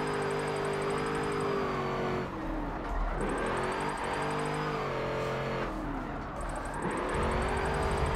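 Car engine in Forza 7 drift racing revving hard under throttle, a steady loud whine rising and falling in pitch over several shifts, with tire noise and a faint high electronic tone over the top.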